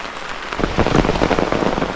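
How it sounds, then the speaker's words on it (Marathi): Heavy monsoon rain pours steadily onto surfaces in rural Konkan. It makes a dense, loud, continuous patter that fills the whole stretch, with no voices. "पावसाने चांगलाच जोर धरला आहे"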